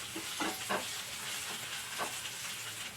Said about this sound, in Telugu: అల్లం వెల్లుల్లి పేస్ట్ బాగా పచ్చివాసన పోయేంత వరకు వేగనివ్వాలండి బాగా